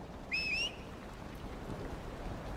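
Steady rainstorm in Dragon Age Inquisition, a soft continuous wash of falling rain, joined early by a brief high whistling tone.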